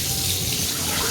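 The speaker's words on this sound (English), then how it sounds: "get some water, swill it off" Water runs steadily from a tap as Zoflora disinfectant is rinsed off a bath and sink, a close, continuous rushing splash with no pauses.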